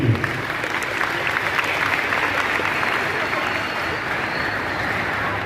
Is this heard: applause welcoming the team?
yes